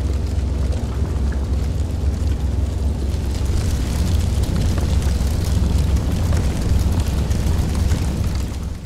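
Steady roaring fire burning in the Black Mesa video game, a loud continuous rushing crackle with low rumble that stays dense and even throughout, no voices over it.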